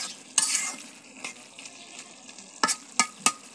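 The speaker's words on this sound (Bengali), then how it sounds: "ঢাকনা উঠিয়ে আমি একটু নাড়াচাড়া করে দিচ্ছি।" Pumpkin greens cooking with dried fish in a pan, stirred after the lid comes off: a steady soft sizzle broken by several distinct scraping strokes of a spatula, close up, with no voices.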